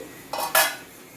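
A metal lid comes off a pot of simmering ash gourd curry, giving two quick, bright clinks close by, the second one louder, against a quiet kitchen.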